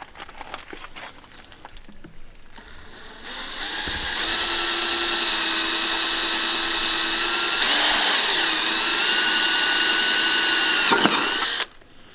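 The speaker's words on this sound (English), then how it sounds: "we'll go ahead and drill these two holes" A power drill bores two holes for a boat's transducer mount, the motor spinning up and holding a steady, loud whine for several seconds before cutting off abruptly.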